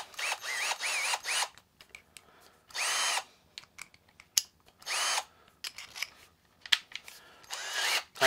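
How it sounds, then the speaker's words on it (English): A power drill whirs in several short bursts, stopping and starting with brief quiet gaps and small clicks between runs. "Load it into my drill here."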